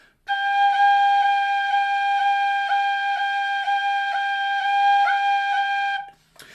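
A tin whistle holds one sustained note for about six seconds, cut by evenly spaced quick finger taps that form short rolls. It is played solo and cleanly, with no other sound behind it.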